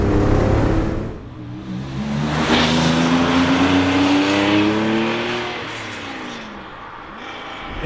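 A Porsche 911 Carrera 2.7 RS Touring accelerates hard on the road, its engine note climbing through the gears in loud, rising sweeps with a brief lift between shifts, then settling into a steadier drone.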